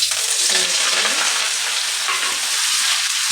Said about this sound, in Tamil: கொஞ்சமாக ஆயில் ஊற்றி கருவேப்பிலையை